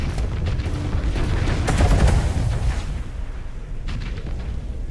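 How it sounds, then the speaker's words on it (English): Bombs from a Doom-class ship burst around another ship in a Starsector space battle, a rumbling run of booms swelling to a loud peak midway, then thinning into scattered blasts. "The Doom dropped a whole bunch of bombs around it"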